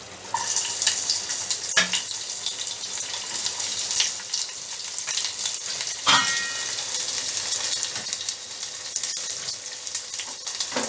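Chopped onion frying in hot oil with chili in a pan, a steady bright sizzle running throughout, with a few louder bursts and scraping stirs at close range, plus a faint trickle like a running tap.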